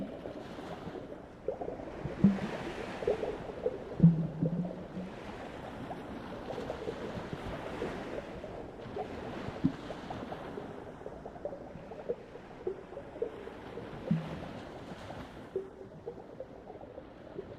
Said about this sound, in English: Listen carefully now and try to hear all of the different sounds under the ocean.